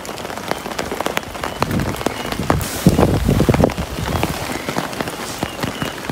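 Heavy rain pours steadily on a mountain trail on Mt. Isarog, dense pattering of drops on surfaces with gusting wind swelling midway, continuous and close, no talk.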